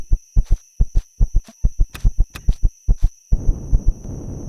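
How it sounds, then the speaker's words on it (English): After overexertion in the Empyrion galactic survival game, a player character's heartbeat pounds in loud, steady double thumps. It continues under a burst of rustling movement noise near the end. "There's a heartbeat. Overexerted myself."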